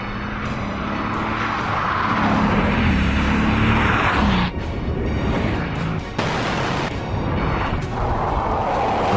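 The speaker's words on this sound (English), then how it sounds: "you can actually hear the unique sound of a Veyron before you see it" A Bugatti Veyron supercar accelerates hard, its engine a loud, sustained roar that fills the whole stretch with a couple of brief dips in intensity.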